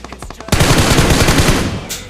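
Gunfire in the video game PUBG: a few sharp single shots followed by a loud rapid burst of automatic fire, close and dominant, trailing off at the end.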